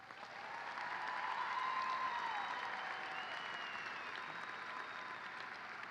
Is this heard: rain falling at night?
no